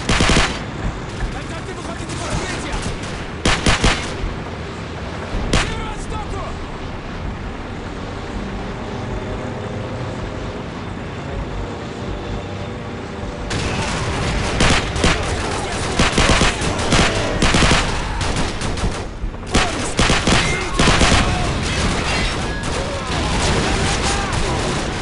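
Sustained gunfire in Call of Duty 4: Modern Warfare, with dense rattling automatic bursts and loud overlapping shots that pause briefly midway and then return heavier, along with vehicle rumble and battle noise.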